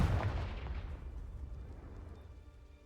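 A Confringo fire spell bursts in the Hogwarts Legacy video game, a single loud blast with a deep rumble that decays steadily over a few seconds, no voices.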